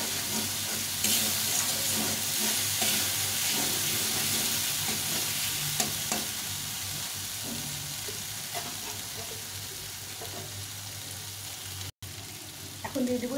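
Tomato and spice paste with salt and turmeric sizzles and fries in a pan while being stirred, a steady close crackle with repeated scraping strokes throughout, for a Bengali pabda fish in mustard-poppy seed curry.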